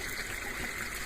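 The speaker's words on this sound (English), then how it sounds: "Water in the background. This comes from underground spring and fills our" Underground spring water pours steadily into a swimming pool at a hotel estate in Sri Lanka. The continuous rushing, trickling flow is close and fairly loud, with no voices.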